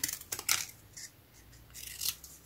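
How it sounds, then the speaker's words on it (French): A few quiet, close snips of scissors trimming around a paper loop for a scrapbooking embellishment, crisp little cuts with short pauses between them and no talking. "Là, je vais lui couper comme ça sa boucle."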